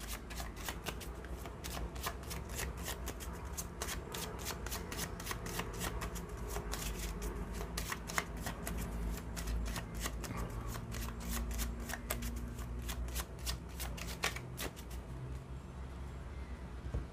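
Lenormand (cigano) fortune-telling cards being shuffled by hand, a steady run of rapid crisp riffling flicks lasting throughout, close and loud, with no talking.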